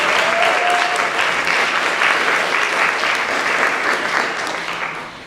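A school auditorium crowd at a world language honor society induction claps steadily, a loud continuous roll of applause that holds strong before tapering off toward the end.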